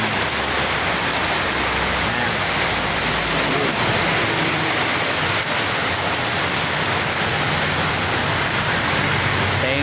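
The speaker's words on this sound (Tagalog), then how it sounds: "ayan ang lakas po ng ulan oh. yan ang uh, ulan sa bubong" Heavy rain pounds a roof in a loud, dense, unbroken roar that holds steady from start to finish.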